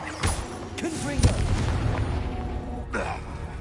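Confringo explosion spell in the video game Hogwarts Legacy: a few sharp booming blasts with bursts and pops, mixed with game sounds and a voice.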